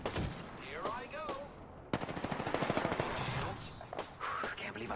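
Rapid automatic gunfire crackles in the video game Apex Legends, a steady rattling burst in the middle after some quieter game sounds, with a faint voice in the background.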